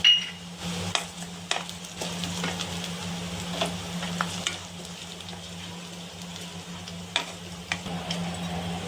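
Onions and cumin fry in oil as a tempering for a raw banana stir-fry, a quiet, steady sizzle broken by sporadic clinks of a spoon against the pan.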